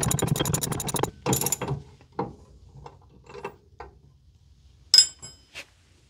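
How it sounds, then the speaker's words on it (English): A hand ratchet wrench turns a bolt on the front strut assembly of a 2001 Jaguar XK8. A quick burst of clicking is followed by scattered single clicks and metallic clinks, close and fairly loud. "You can start it and then you need to wrench."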